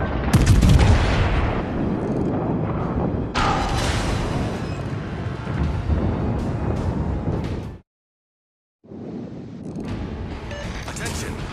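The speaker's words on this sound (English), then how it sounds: "Concentrate fire on the enemy warship." Heavy naval gunfire from a battleship in the World of Warships Legends video game, loud repeated booming salvos and explosions running almost continuously, with a brief silent gap near the end.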